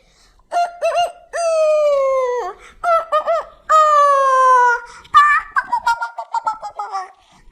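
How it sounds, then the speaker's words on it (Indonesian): A rooster crows several times in a row, loud and close, with long drawn-out calls followed by shorter clucking bursts in a quiet setting. "terdengar suara gagak ayam jantan"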